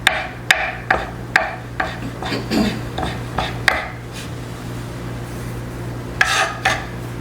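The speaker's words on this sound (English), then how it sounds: "I'll go ahead and just give it a little chop" A knife chops ginger on a cutting board for ginger cookies, giving a series of sharp, fairly close knocks at an uneven pace with short pauses and a final pair of chops, no voices.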